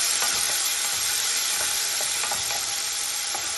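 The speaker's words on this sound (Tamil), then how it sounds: "பார்த்தீங்கன்னா தக்காளி நல்லா வதங்கி வந்துருச்சுங்க." Tomatoes sautéing in hot oil in a pan fill the air with a steady, close, dense sizzle and crackle, with faint stirring scrapes and no talking.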